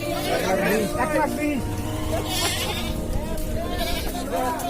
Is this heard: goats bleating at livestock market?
yes